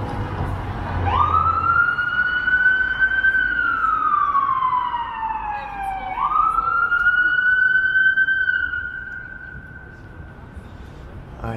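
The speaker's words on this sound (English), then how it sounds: "I hear a siren, but I do not see it." A wailing emergency siren on downtown Yonge Street in Toronto on a Friday night rises and falls in two long sweeps, fairly close and loud, then fades away at the end.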